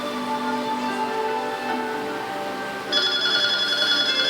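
A telephone rings with a steady electronic ringtone of repeating bright tones that shift to a higher, louder pattern partway through, heard clearly with no talking.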